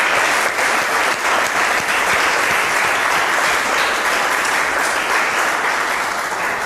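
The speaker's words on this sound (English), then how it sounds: "Please clap for him." A classroom of students claps loudly and steadily for a classmate, dense continuous applause lasting several seconds at close range.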